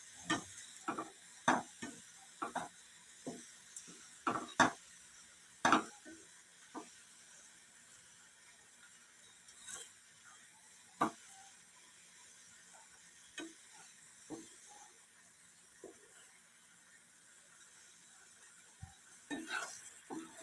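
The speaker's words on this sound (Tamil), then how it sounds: "நல்லா கொதிக்குது, கிளறி விட்டுலாம்." Jaggery and dates mixture bubbling in a pan while a spoon stirs it, giving a faint simmer with a series of sharp scrapes and clinks against the metal pan, scattered irregularly.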